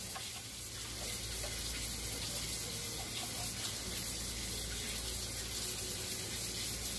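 Water running and splashing as rice is rinsed and drained in a pot while making Puerto Rican sancocho, a steady broadband wash with a low hum underneath throughout, no talk.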